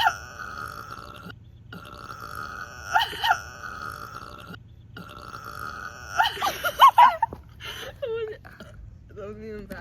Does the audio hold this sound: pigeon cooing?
no